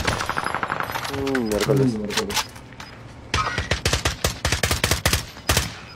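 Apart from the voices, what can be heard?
gunfire in a video game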